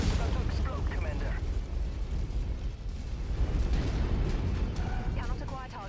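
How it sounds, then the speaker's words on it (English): An explosion in the Mechwarrior 5 video game rumbles with heavy low booms and crackling debris through a sustained, loud blast, while a voice talks over it. "It's about to explode, Commander."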